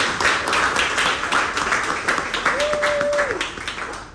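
A small audience gives a quick round of clapping, a dense, fairly close patter of hands that runs steadily under a talking voice and a short whistled tone.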